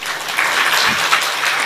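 An audience at a Brahma Kumaris spiritual gathering claps to welcome Rajyogi BK Suraj Bhai, a steady wash of applause running through the short moment without a break.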